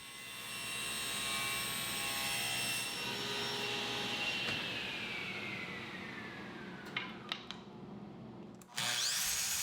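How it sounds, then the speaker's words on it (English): Power saw cutting wooden cleats to 3/4 by 1 inch, a steady loud whine of the blade through wood for several seconds, then spinning down, with a few brief knocks before it stops. "the next step is to cut the cleats to size at 3/4 by 1 inch"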